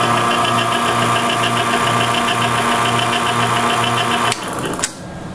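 A Whip Mix combination unit motor runs after maintenance, a loud steady hum with a rhythmic pulsing drone, then switches off near the end and winds down.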